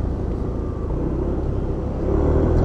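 Several cars pass close by on a road in a steady, continuous rumble of engines and tyres, the noise swelling slightly toward the end, with no talking.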